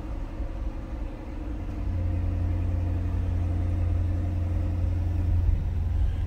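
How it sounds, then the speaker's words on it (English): A 2020 Chevrolet Corvette Stingray coupe idles with its exhaust opened up, a deep steady rumble that swells slightly after the first couple of seconds and then holds, close with no talking. "That opens up that exhaust a little bit. We're going to leave it like that so you can hear it."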